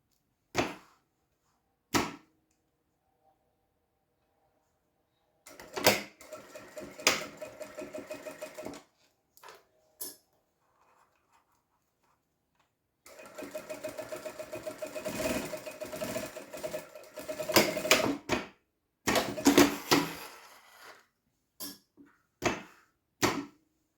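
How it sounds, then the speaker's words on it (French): A sewing machine stitches three sides of a fabric door stopper in several bursts of rapid whirring, close and fairly loud, separated by pauses and sharp clicks as the fabric is handled. "vous piquez les 3 côtés"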